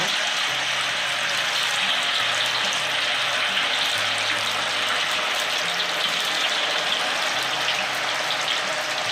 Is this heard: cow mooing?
no